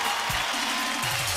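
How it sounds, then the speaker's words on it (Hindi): An audience applauds at an Indian television talent show, a continuous wash of dense clapping from start to end with a faint voice beneath. "एक बार जोरदार ताली एक बार इसके लिए"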